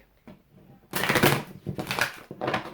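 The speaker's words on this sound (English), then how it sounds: "let's shuffle and pull from the Native Spirit deck" Deck of Native Spirit oracle cards being shuffled by hand, a few faint taps, then bursts of close riffling and flapping in uneven clumps, with no talk.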